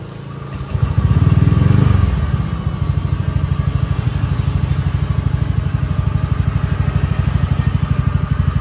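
A Honda Scoopy scooter with a 57mm bore-up piston starts, revs briefly, then settles into a steady, close, rapidly pulsing idle, running alone.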